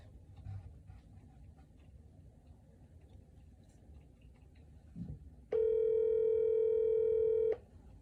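After a stretch of quiet room noise, a telephone ringing tone sounds once, a steady electronic tone lasting about two seconds, clear and close.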